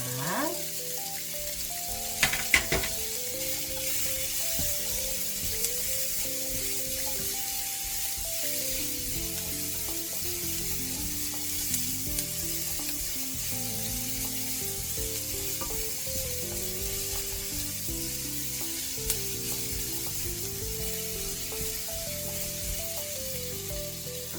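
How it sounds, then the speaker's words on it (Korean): Carrots and garlic stir-fry in a pan over reduced heat for a bacon risotto, giving a steady close sizzle and crackle that runs throughout, with a few scraping clinks of a utensil near the start. "여기 제일 빨리 안 익는 당근을 넣고 좀 볶겠습니다."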